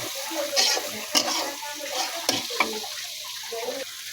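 Ingredients fry and get stirred in a pan before noodles go in, with soft sizzling and intermittent scraping clatters in a quiet village setting.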